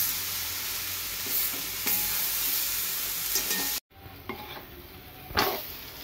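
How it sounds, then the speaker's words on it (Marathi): Spice masala roasting in oil with eggplant in a pan, a steady close sizzle broken by stirring scrapes, a brief cut in the middle, then continued frying with a louder stir near the end. "आधी आपण मसाला चांगला भाजून घेऊया, वांग्यांना थोडं तेल सुटस तोपर्यंत."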